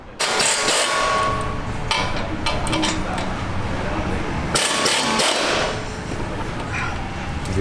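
Air tools working on a Civic Si camber arm, a loud burst of rattling impact hammering, a short pause, then a second burst, with people talking nearby.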